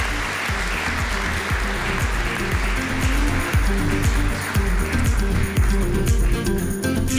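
Sustained audience applause fills an award ceremony hall, a dense steady patter of many hands clapping evenly throughout with no voices on top.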